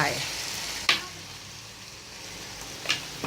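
Sliced sausages sizzle and fry steadily in a pan, with a couple of sharp clinks of a utensil against it.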